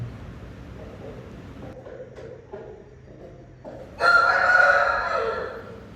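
A gamecock rooster crows loudly once near the end, a bright drawn-out call rising out of quiet background noise.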